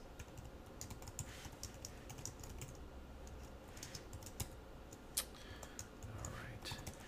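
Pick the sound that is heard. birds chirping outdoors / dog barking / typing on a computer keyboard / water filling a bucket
typing on a computer keyboard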